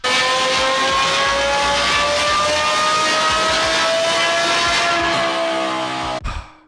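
A Lamborghini Huracan fitted with an F1-style exhaust holds a loud, sustained high rev, its shrill wail climbing steadily for several seconds before the throttle is cut with a few crackles.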